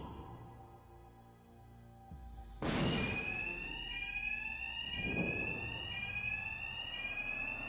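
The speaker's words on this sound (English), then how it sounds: "Two-Face's thugs won't hear me over the alarm." A ringing alarm in the video game Batman Arkham Knight, a steady electronic bell that starts abruptly after a burst of noise and keeps sounding loudly, with another thud partway through.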